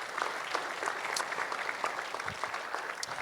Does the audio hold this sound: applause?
yes